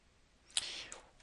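A single computer mouse click, quiet and close, with a short sharp tick followed by a faint second click, set against a still, near-silent room.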